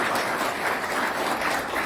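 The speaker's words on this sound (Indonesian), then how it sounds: "Tepuk tangan untuk Anda semuanya." Dense, steady applause from a seminar audience fills the whole moment, loud and continuous with no talking over it.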